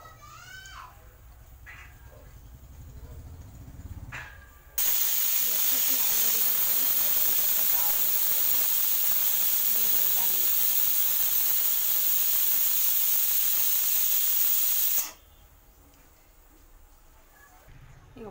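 A pressure cooker cooking gongura dal lets out one long, loud hissing steam whistle lasting about ten seconds, starting and stopping abruptly, with quieter kitchen sounds and brief talk before and after.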